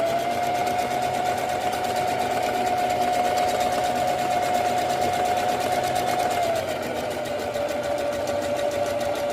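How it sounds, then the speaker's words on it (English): Sewing machine stitching elastic into a skirt waistband, a steady fast whirring hum running close and loud for the whole stretch with a slight drop in pitch near the end. "now I'm going through and I'm just like stitching the elastic in there"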